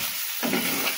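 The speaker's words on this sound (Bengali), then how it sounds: "এবার আমার ভেজে রাখা মাছগুলো দিয়ে দিলাম। মাছগুলো একটু ভালোভাবে কষিয়ে নেব।" Pieces of fried boal fish sizzle in a pan of spice masala as they are stirred. The sizzling jumps up suddenly with a close, hissing frying sound partway through, and there is no talking.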